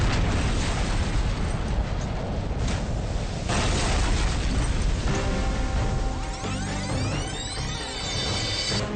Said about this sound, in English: The blast from the ignited fuel sends a 20-ton steel hatch cover hurling across the bay.